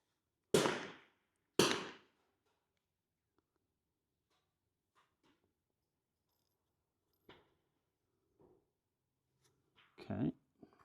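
At a rimfire match, a .22LR rifle firing Lapua Center-X ammunition gives two sharp, loud cracks about a second apart. Near silence follows, then a brief quiet voice near the end.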